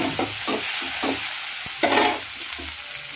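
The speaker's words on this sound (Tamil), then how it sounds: "இப்போது நல்லா வதக்கிட்டாங்க. கத்திரிக்காய், உருளைக்கிழங்கு கூட சேர்த்துக்கிறாங்க." Brinjal and potato sizzle in a pan while being sautéed and stirred, with a steady frying hiss broken by rhythmic scraping strokes of a spoon, close and fairly loud, with no talking.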